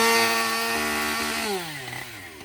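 A chainsaw cuts firewood, its engine whining loud and steady at first, then dropping in pitch as the blade bites deeper into the log, with no talking.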